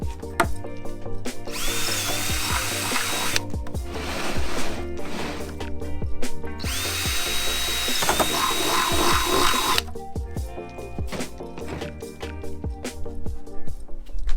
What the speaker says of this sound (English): so we got to drill another holes in the corner